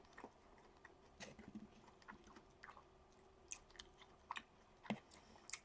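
Close, quiet chewing of tacos, with irregular moist bites and crunches scattered over several seconds and no talking.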